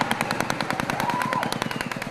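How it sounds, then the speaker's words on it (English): Rapid bursts of gunfire during a protest in Srinagar, a dense rhythmic string of sharp cracks fired in quick succession, loud and close, with no voices over it. "You can hear gunshots being fired."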